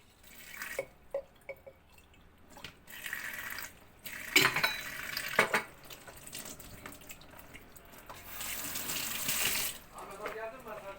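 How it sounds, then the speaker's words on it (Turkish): Water from boiled potatoes and vegetables for Russian salad pours and splashes into a sink in uneven gushes, with clattering and dripping, then a steadier rush of draining water near the end. "Bunu da suyunu süzdüm."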